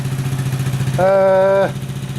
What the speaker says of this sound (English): well the engine's running